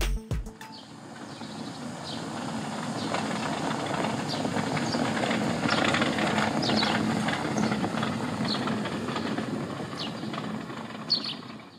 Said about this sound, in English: this is what the Press Fleet Superb suspension sounded like from the outside